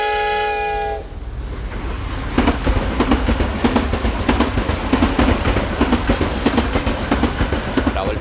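A passenger train running from Rawalpindi to Lahore: a long horn blast opens, then the carriages roll on with a steady, rhythmic clickety-clack of wheels over rail joints, loud and close, continuing without pause.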